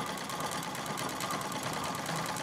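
A Singer 66 treadle sewing machine free-motion quilting gives off a continuous, close, even mechanical whirr with a fine rapid pulse, steady throughout with no voices.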